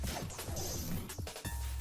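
A game sound effect from the visual novel Fate/Stay Night of a girl delivering a smashing blow, heard as a few sharp whacks and a whooshing crash over busy background music, fairly quiet overall.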